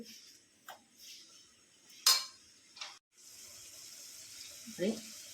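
Turmeric, chilli, salt and coriander-cumin spiced brinjal and potatoes stirred in a pressure cooker: a few scattered scrapes, then a faint, steady sizzle, with a brief voice near the end.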